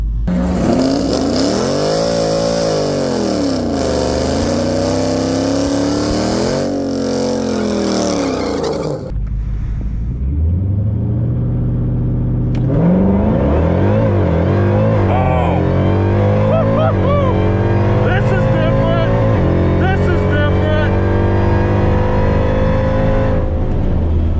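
Dodge Hellcat launching down a drag strip, a loud engine roar climbing steeply in pitch, breaking off near the midpoint before a deep rumbling engine note rises again and holds, heard from close range.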